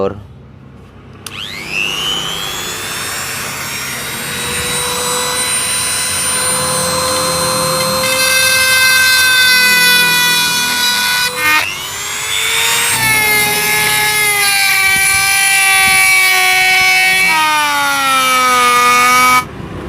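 A power drill bores into a PE28 carburetor body to make a power jet, its motor whining up to a loud, steady high pitch, briefly stopping and then spinning up again for a second long run.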